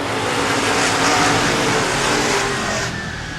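Modified race cars roar hard on the gas out of turn 4 at a speedway for green-flag racing, a loud, dense wall of engine noise that eases slightly near the end.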